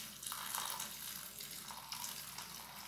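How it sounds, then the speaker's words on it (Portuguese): About a litre of boiling water is poured into a container to mix a homemade fabric softener, making a steady, close, hissing splash that carries on for several seconds with no talk. "Então eu resolvi colocar 1 litro de água fervente"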